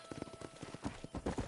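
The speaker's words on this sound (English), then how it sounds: "Control that horse, will ya?" Horse hooves clip-clop in quick, uneven beats in Red Dead Redemption, close and fairly faint.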